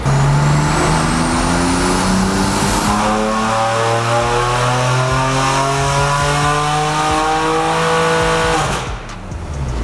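A tuned BMW S55 twin-turbo engine in an M2, M3 or M4 with methanol injection, revving on a dyno pull: one loud, sustained climb through the rev range, then an abrupt cut near the end.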